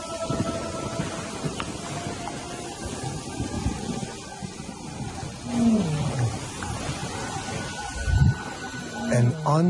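Wild lions roar in the African bush, two deep drawn-out groaning roars in the second half over rustling background noise, with a voice faintly present.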